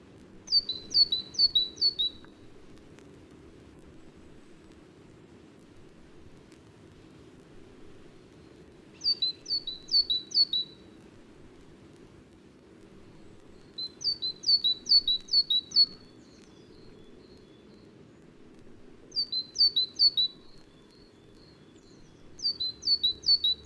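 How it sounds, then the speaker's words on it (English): A great tit sings in a New Forest glade in early October, short bright repeated two-note phrases coming in bursts every few seconds, with a second bird answering not far away over a quiet woodland background. "Here, a great tit, singing in a new forest glade in early October, sets off another one not far away."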